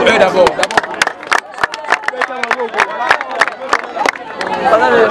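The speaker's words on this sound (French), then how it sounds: "Est-ce qu'on peut acclamer pour eux d'abord?" A crowd at a prize-giving for winners in Kikwit claps hard and fast, sharp irregular claps densely packed and loud, with voices and cheering mixed through the applause.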